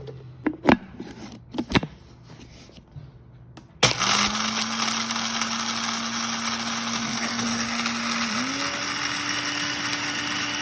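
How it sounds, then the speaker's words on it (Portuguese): Blender starting up on thick cacao chocolate paste after a few knocks and clatters, then a steady straining motor whine that shifts pitch upward partway through as it labors against the dense mixture. "o meu liquidificador não deu conta de bater essa massa"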